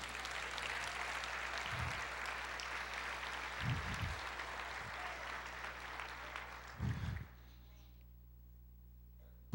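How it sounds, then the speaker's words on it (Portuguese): A church congregation claps together during a sermon in a continuous moderate patter punctuated by a few low thumps, then the clapping stops abruptly and leaves near silence. "Aplauda, Senhor, diga eu creio."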